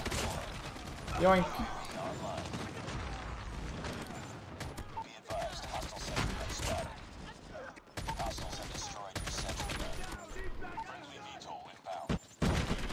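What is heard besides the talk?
gunfire from hip firing in Call of Duty Mobile video game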